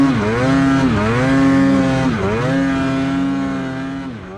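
A 155 naturally aspirated snowmobile churns through deep snow, its engine loud and close with a droning, harmonic whine that dips twice and rises again as the rider pushes through, then fades slightly at the end.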